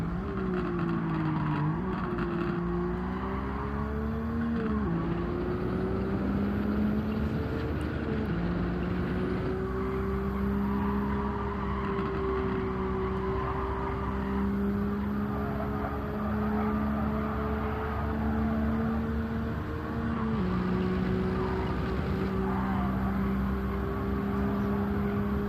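A race car engine drones and shifts pitch while drifting in Gran Turismo 7, a sustained loud engine note with gear changes and tyre noise underneath, continuous throughout with no talking.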